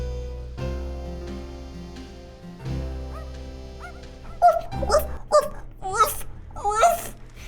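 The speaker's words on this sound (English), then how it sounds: "I love that dog sound in the song" Dog-like yips and whimpers ride over the music of a melee multiplayer PvP game trailer, starting after a sustained synth passage and repeating in quick, bright bursts over the final seconds.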